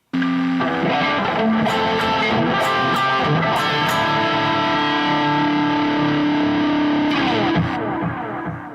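Distorted electric guitar playing a steady sequence of sustained chords, loud and close, with a chorus-like shimmer and no voices.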